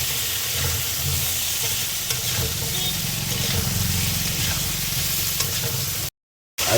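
Raw mango and green chilli hitting a hot pan, with loud continuous sizzling and frying, brief stirring scrapes on top, then a sudden cut to silence near the end.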